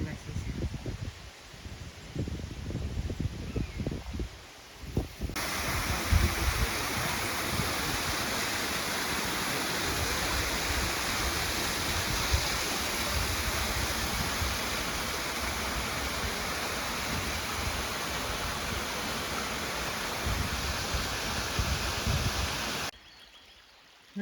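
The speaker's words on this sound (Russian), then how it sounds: "Речка пополняется из разных источников. С гор стекает вода." A mountain stream fed by water running down from the hills flows through a forest with a steady, close, broadband rush that lasts most of the stretch, after a short opening of quieter sound and talk.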